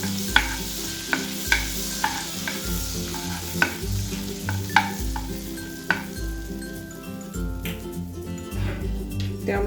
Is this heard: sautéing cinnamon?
yes